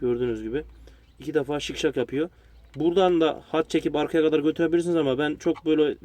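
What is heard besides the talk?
No everyday noises stand out.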